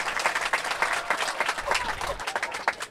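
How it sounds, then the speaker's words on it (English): Spectators at a pro mixed doubles pickleball match at the 2020 Florida Grand Slam applaud in uneven bursts of clapping, a lively, mid-distance crowd sound with no talk over it. "the crowd is going wild"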